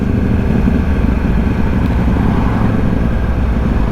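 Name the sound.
Yamaha R1 motorcycle engine during night ride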